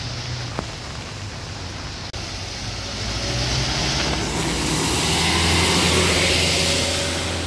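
A loaded diesel Hino coal truck labouring up the steep Kedabuhan hill climb at dusk, a low rumbling engine drone that swells louder and rougher as it draws nearer, with a broad hissing wash over it.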